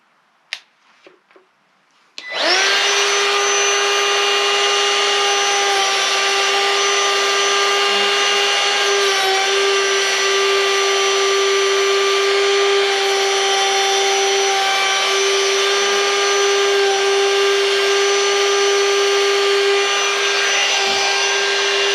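A woodworking router cuts a board for board-and-batten trim: a loud, steady high-pitched whine that starts abruptly after a couple of faint clicks and runs continuously with no talk.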